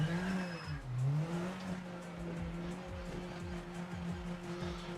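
A race car engine in the game Project Motor Racing drones steadily with its pitch rising and falling as it revs through gears, close and continuous, with no talking.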